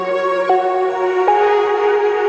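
A sustained synth pad from a pop ballad's pre-chorus holds a steady chord alone, bright and even, with soft chord changes at two points and no voice or percussion.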